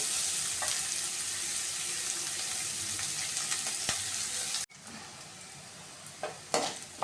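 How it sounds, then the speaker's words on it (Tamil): Onions sizzling in a pan while being stirred for a drumstick thokku, a steady close frying hiss with a few utensil scrapes, then quieter sizzling with sharper stirring clinks after a brief cut. "வெங்காயம் போட்டு நல்லா வதங்கி வரணும்"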